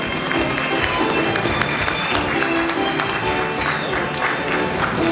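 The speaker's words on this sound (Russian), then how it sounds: "Давайте встретим аплодисментами." An audience applauds at a university gala concert at Bashkir State University, a dense and even wash of clapping that holds steady throughout.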